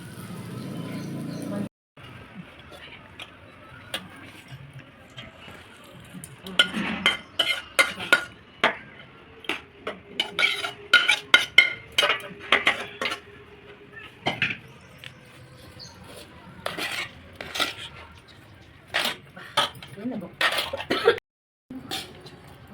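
Scraping and clinking of a spoon stirring tempering into rice in a pot, irregular strokes with brief pauses, with occasional throat sounds nearby.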